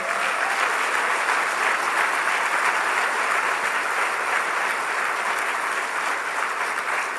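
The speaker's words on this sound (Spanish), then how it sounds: "denle otro aplauso al Señor" Steady, dense applause from a large crowd, loud and sustained throughout without a break.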